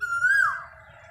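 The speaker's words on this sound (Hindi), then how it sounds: "हम आपको सुनाते हैं कोयल की मधुर कुहू कुहू आवाज़" An Asian koel sings a single clear, whistled note that rises and then falls, loud and fairly close against a quiet low rumble.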